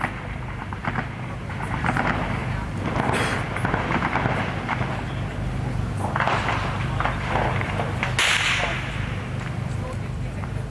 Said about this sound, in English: reports of explosions and gunfire near the school siege